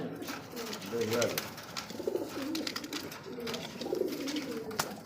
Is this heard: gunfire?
no